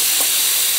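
Chopped onion hitting hot oil in a frying pan, a steady loud broadband sizzle and hiss close by, continuous throughout with a brief soft knock near the start.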